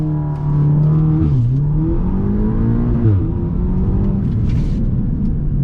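An Audi S3 Stage 2, traction control switched off, launches hard and pulls through the gears, its engine note climbing loudly and dipping briefly at each shift, close and unbroken with no talking.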